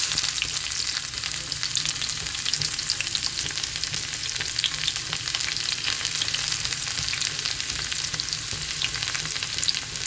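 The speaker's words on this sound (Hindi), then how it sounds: "अब हम इसमें प्याज डाल देंगे।" Chopped onions hit hot oil with cumin seeds in a pan, giving a steady, loud, broadband sizzle that holds evenly throughout with faint stirring scrapes underneath.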